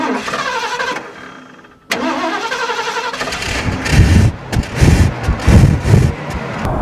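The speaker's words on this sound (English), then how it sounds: "let's take it 0 to 60 and see how fast you'll do" A carbureted classic American luxury car engine cranks and catches, then revs hard and roars as the car pulls away from zero, the throaty note surging loudly.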